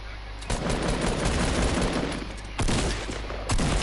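Rapid bursts of video game gunfire fill the whole stretch, a dense near fusillade with sharper volleys landing around the middle and end, loud and continuous with no talk over it.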